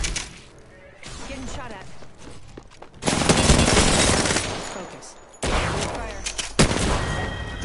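Rapid automatic gunfire in a duos battle-royale video game, dense bursts and sustained volleys in several loud clusters with short lulls between, under occasional talking.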